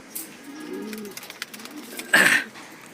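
A racing pigeon gives soft, low cooing close by, followed by a brief louder flutter-like burst near the end.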